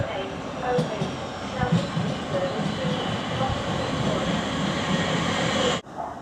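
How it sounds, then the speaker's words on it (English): A Ravensbourne service train pulls into Shortlands station, its rumble and wheel clatter steady and fairly close, with scattered clicks, ending abruptly near the close. "So this is the Ravensbourne Service train arriving."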